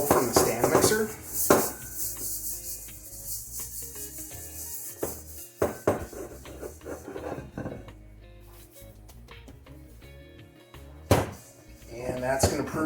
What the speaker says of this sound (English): I'm going to oil up the bowl from the stand mixer